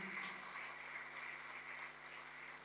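An audience at a Republic Day kavi sammelan and mushaira applauds steadily, a faint, distant, even patter of many hands beneath a low constant hum.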